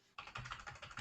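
Quick run of keystrokes on a computer keyboard, a rapid series of soft, faint taps.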